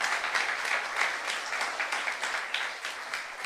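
A church congregation applauds during a youth service sermon, a dense, lively burst of many hands clapping together, moderately loud and sustained across a few seconds without any speech over it.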